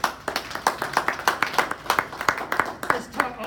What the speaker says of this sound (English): Give this sweet lady a round of applause